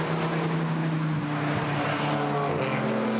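GT4 race cars, including a Chevrolet Camaro, roar past on the Brands Hatch circuit, engines droning loud and near with rising and falling pitch as they sweep by continuously.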